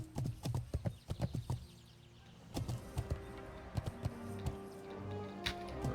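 Horse hooves in World of Warcraft clip-clop in quick, even bursts of sharp, close hoofbeats, pausing briefly before resuming, with a faint animal whinny-like tone in the background.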